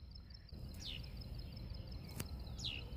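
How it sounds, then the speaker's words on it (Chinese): Two short, faint chirping bird calls sound outdoors over steady low background rumble, one near the start and another near the end. "他听到鸟叫了。"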